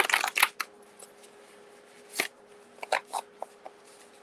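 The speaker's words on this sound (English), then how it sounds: "Hope you don't mind the sound of shuffling." Tarot cards being shuffled in crisp, riffling bursts, a loud flurry at the start, then scattered softer slaps and flutters against a quiet room.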